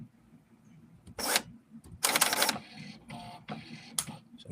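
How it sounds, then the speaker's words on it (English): A printer starts up with a few loud mechanical bursts of whirring and rasping, separated by short quiet gaps over a low background hum. "you can hear the printer start"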